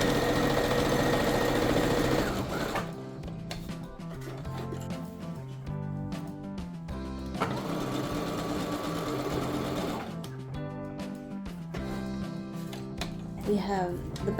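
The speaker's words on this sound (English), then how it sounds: "I will just sew up this part that was supposed to be a fold." Sewing machine stitching down a section of garment fabric meant as a fold, running loudly in steady bursts with short pauses between runs, close and up front.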